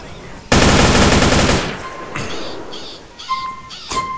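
A modded SMG in GTA San Andreas fires one loud, rapid burst of about a second, followed by lighter metallic pings and clicks from the game.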